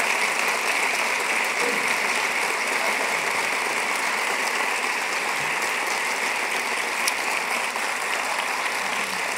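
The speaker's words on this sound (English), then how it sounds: "let's give an amazing round of applause to our sponsors and our funders" An audience at a dance industry opening plenary applauds sponsors and funders with steady, dense clapping throughout, moderately loud and evenly sustained.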